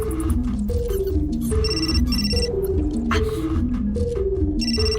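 A phone rings in the video game Still Life 2, a repeating electronic ringtone of short melodic bursts playing steadily and prominently over a low, droning game soundtrack, with no voices.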